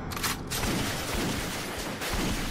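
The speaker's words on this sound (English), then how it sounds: "the shooting began" Dense, continuous burst of gunfire sound effect, a rapid crackling fusillade that fills the whole stretch at moderate loudness with no talk over it.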